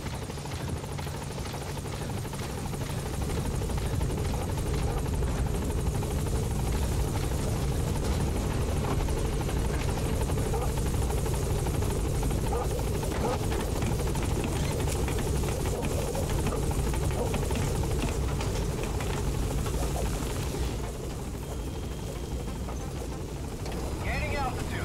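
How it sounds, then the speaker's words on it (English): The support helicopter in the video game Metal Gear Solid V: The Phantom Pain arrives, a loud continuous rotor thrum and engine drone that holds steady throughout, with game voices talking over it. "Support helicopter has 160. arrived."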